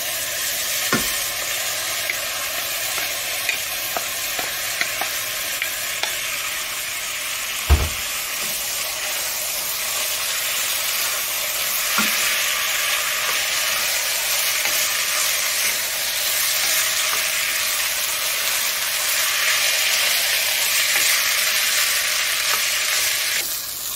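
Rice for mandi fries in a pot while being stirred: a loud, continuous close sizzle and hiss throughout, with occasional light scrapes and knocks from the stirring.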